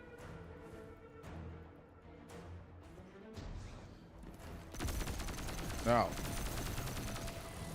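Gunfire in Destiny 2 crackles in rapid bursts, first a series of sharp spaced shots, then a dense continuous barrage with a whooshing effect, as a player speaks briefly.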